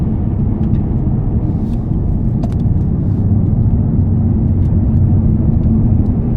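Cars circulating on the Anglesey race circuit, a continuous loud low engine rumble with a steady droning tone and no talk over it.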